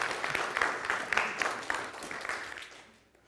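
A church congregation on Scout Sunday gives a round of applause: a brief spell of moderate clapping with a few distinct claps, fading away to near silence by the end.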